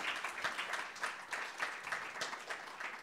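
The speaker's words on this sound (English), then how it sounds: "may I request the audience to give a very warm round of applause to the chair and our distinguished panelists" A conference audience gives warm applause to a chair and panelists at a spirituality and soft power session. The clapping is steady and fairly faint, with a distant, room-filling wash and no talk.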